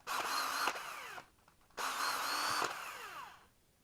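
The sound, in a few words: power drill running and locking up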